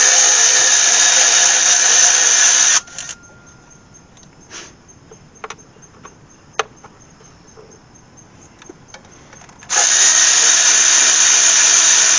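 Bolts come out of the pulley on a Dodge Cummins 5.9 diesel engine with a loud, steady whir from a power tool, then a pause with a few metallic clinks before the tool whirs again.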